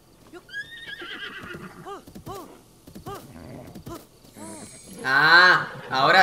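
A horse in Zelda: Breath of the Wild gives a run of repeated whinnies and snorts, growing louder and longer toward the end, with faint hoof sounds between the calls.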